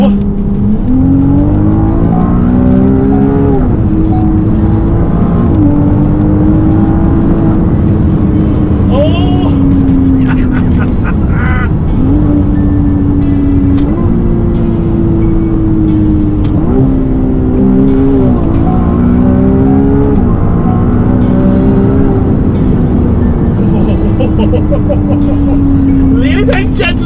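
A Ferrari sports car in Dubai revs loudly and drives, its engine note rising and falling in repeated pulls and gear changes for the whole stretch, close and dominant.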